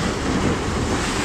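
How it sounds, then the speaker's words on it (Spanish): Ocean waves breaking against rocks on the Galician coast near Camariñas and Corrubedo: a loud, continuous roar of surf and spray with wind buffeting the microphone. "rompen las olas"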